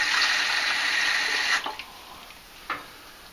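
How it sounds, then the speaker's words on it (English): Water poured from a cup into a blender jar for hackberry milk: a steady splashing stream for about a second and a half, then a few trailing drips and one final splash. "we're gonna top it off with water"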